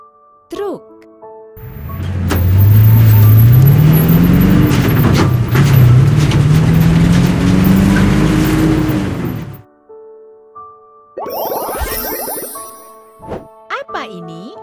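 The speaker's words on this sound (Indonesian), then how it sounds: "Truk." A heavy vehicle engine rumbles loudly and close by, its pitch rising and falling for several seconds before cutting off; voices follow afterward.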